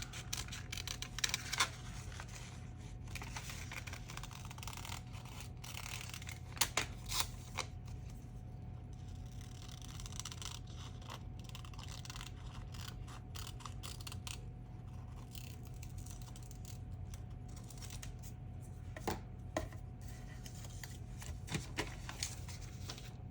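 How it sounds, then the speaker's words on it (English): Paper being fussy-cut with scissors, a run of small snips and clicks scattered over a steady low background hum, close and fairly faint, with no talk. "We'll fussy cut it out."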